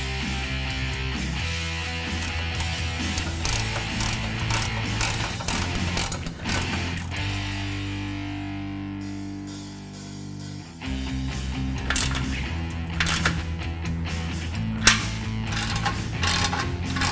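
Ratchet wrench clicking in quick bursts as it tightens the bolts of a stainless steel 3-inch Roush cat-back side-exit exhaust on a 2015-2016 Ford F-150, with a longer steady run of clicks in the middle, close and clear.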